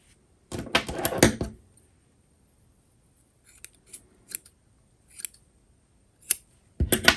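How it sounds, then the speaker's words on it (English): Scissors snipping yarn ends on a herringbone single crochet pillow: a dense burst of close cutting at the start, then scattered single snips with pauses, and a final cut at the end. "So you want to cut all of the ends."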